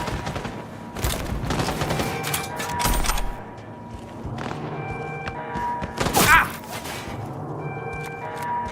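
Cyberpunk 2077 gunfight with repeated thumping shots and bursts scattered through a busy mix, one louder blast near the end, under game noise and a person talking.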